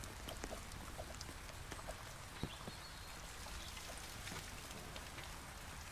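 Steady rain falls at night in a Roblox game, a dense even hiss of drops on surfaces with faint scattered taps, continuous and moderately quiet with no talking.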